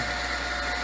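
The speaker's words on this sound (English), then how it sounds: "sorry for the noise over at the surface grinder" Steady, loud machine whine and broadband hum from an old Boyar Schultz Challenger surface grinder running continuously, with no pauses or voices.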